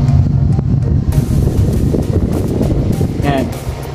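An electric fan on its lowest speed setting, just after a capacitor replacement repair, sends out a loud, close, steady whoosh of rushing air with a low hum. A voice talks over the sound.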